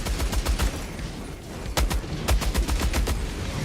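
Rapid automatic gunfire in the Helldivers 2 video game, loud dense bursts of shots fired in quick succession with a short pause midway, then continuous firing to the end.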